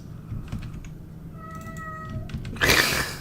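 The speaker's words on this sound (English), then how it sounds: "It just made a sad meow." A cat gives a short, plaintive meow partway through, faint behind close keyboard typing and some clatter, before a louder rustling burst at the end.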